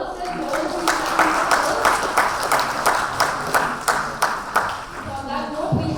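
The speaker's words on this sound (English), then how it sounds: "So please clap for yourself." Audience members clap for themselves at the end of a quiz during a medical nutrition CME event in a Bengaluru hotel, with dense, fairly loud clapping that thins toward the end and voices faintly underneath.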